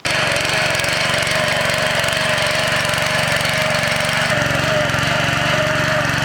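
Autofarm Terraturn Pro multipurpose farm machine engine running steadily in a field, a loud continuous mechanical drone with a rapid regular chug that shifts slightly in pitch partway through, with no talking.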